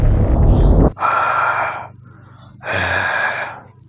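A voice imitates snoring breathing: a heavy rasping inhale followed by two long, breathy snore-like exhales, close and fairly loud with no other talk.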